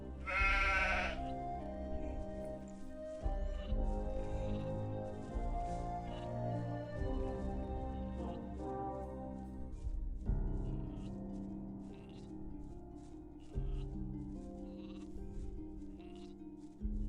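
A ram bleats in the Gothic Archolos game, with drawn-out tonal cries repeating over a sustained background of music, fairly close and clear.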